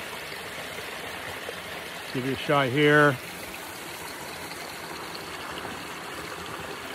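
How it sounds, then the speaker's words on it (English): Water from a small creek trickles down over rocks in a little valley, a steady soft broadband rush throughout, with a brief burst of a man's speech near the middle. "found this little drop of water coming down over the rocks up this little valley here"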